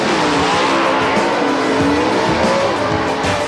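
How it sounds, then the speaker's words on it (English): NHRA drag racing cars from the 1987 season roar loud and steady through a final-round run, with engine drone, tire squeal and skidding filling the whole stretch. "Racing against Leal in the final was Bruce Allen."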